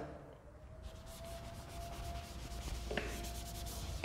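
Drawing is erased from a board with soft scratchy rubbing strokes, faint and close, building slightly in intensity over a few seconds.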